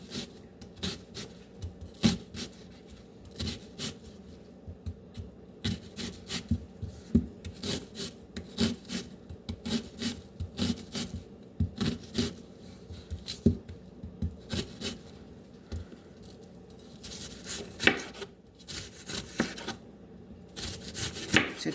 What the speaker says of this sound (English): So we're gonna cut this, gonna slice our onions.